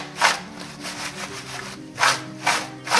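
Banana wafers tossed with chili powder in a bowl or tray, giving repeated dry scraping, rustling bursts at close range, with no talk.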